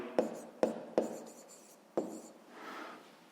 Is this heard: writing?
yes